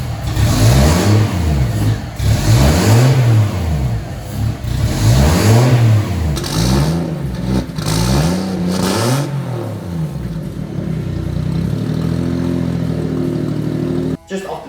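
A turbocharged Mercedes M104 engine in a W203 revs up and down repeatedly in a steady rhythm, loud and close, then settles into a rough idle.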